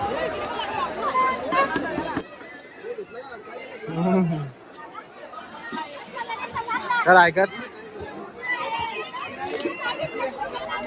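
A dense crowd at the Mhasa fair chatters all around, many overlapping voices close and loud, with children's shouts and bursts of nearby talk rising and falling.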